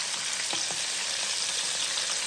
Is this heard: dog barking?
no